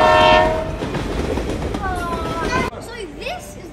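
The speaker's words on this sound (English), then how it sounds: "everyone aboard the train. We're leaving now." A small train at a children's science museum departing, with a loud horn sounding at the start and rolling clickety-clack of wheels continuing throughout, close by, with a brief voice near the end.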